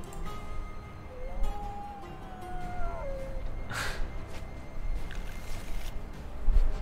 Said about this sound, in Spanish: Mira, y otro aullido, mira.